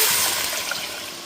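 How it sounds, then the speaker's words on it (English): Water poured from a container into a cooking pot of browned beef for shredded taco or burrito meat, a short, close splashing stream that gurgles and fades slightly. "So now we're just going to add water."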